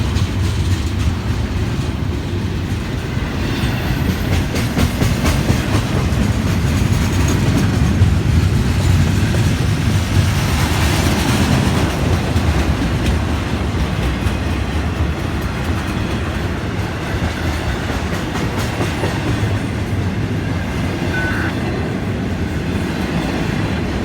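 An FEC freight train, train 105 with locomotive 716, rolls past steadily for the whole stretch, a loud continuous rumble of wheels and wagons with rhythmic clatter and faint squeal, heard close to the track.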